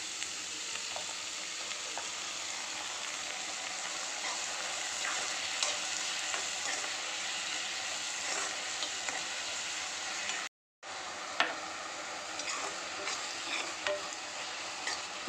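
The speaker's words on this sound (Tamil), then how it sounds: "மசால் 2 நிமிஷம் நல்லா வதக்கியாச்சு." Ground masala paste sautéing in a pan for Tamil-style egg masala, a steady broadband sizzle with intermittent scraping stir strokes, close and continuous, briefly cut off near the end before resuming.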